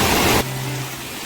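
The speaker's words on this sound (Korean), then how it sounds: "여기 계곡물이 이렇게 졸졸졸 흐르네요" Rain-swollen mountain valley stream flowing, a broad rushing wash that starts loud and close, then drops to a softer steady flow with a low hum after a sudden shift.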